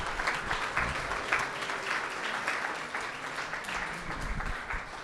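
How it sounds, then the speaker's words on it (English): Steady, moderately loud applause from a crowd welcoming a new cohort of science startups, continuous clapping sustained across the whole stretch without talk. "You can give them a round of applause."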